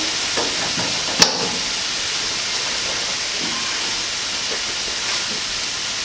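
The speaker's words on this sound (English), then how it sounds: "Meanwhile, we're going to drain the pasta." Cooked linguine is drained, giving a steady loud hiss of rushing water and steam with a faint sizzling texture and one sharp clink near the start.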